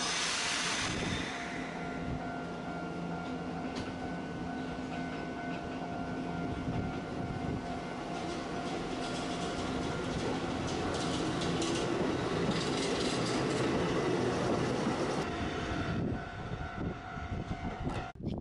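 A Kotoden Kotohira Line train in Japan passes close by, a loud, steady rumble of wheels and motors lasting many seconds before fading slightly at the end, with no voices.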